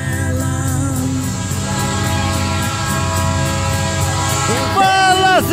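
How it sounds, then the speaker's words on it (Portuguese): A RUMO Locotrol night freight train rolls past in Santa Maria, Rio Grande do Sul, with a loud steady rumble and rhythmic wheel clatter. Its horn sounds near the end. "Tá aí o trem noturno, Guilherme!"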